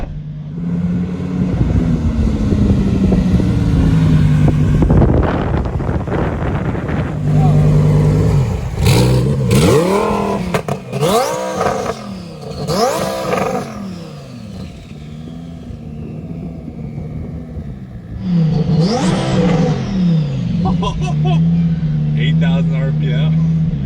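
Twin turbo Lamborghini engine revving hard at full throttle, rising and falling rpm sweeps with a loud rumbling roar, heard close along with people talking and exclaiming over it.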